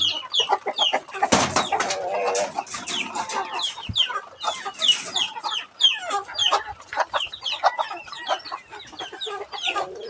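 Dense, constant peeping and shrill cries from many young chicks, overlapping and busy throughout, with a few clucks mixed in.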